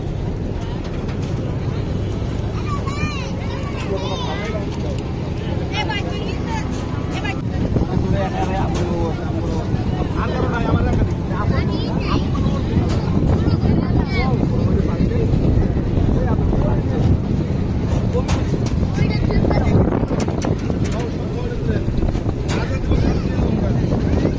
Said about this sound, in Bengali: খুব সুন্দর ওয়েভ আর অনেক বাতাস, খুব সুন্দর ওয়েভ।